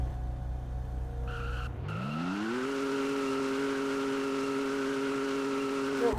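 A car engine in a video game idles low, then cuts out briefly before revving up into a steady high-pitched drone that holds evenly to the end, heard alone without talk.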